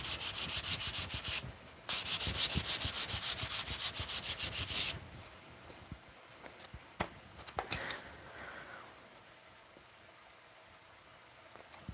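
Wood being hand-sanded during a finishing pass after the coarse scratches are gone, with loud steady rasping strokes for about five seconds, then quieter scattered rubs and taps near the microphone.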